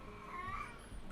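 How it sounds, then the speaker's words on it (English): A short, faint meow from a cat, rising then falling over about a second, with soft background noise. "my cat, of course, never wants to be quiet."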